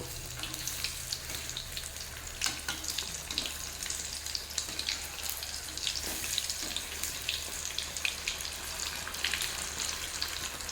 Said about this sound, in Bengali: এবার একটু উল্টে পাল্টে লাল লাল করে ভেজে নেব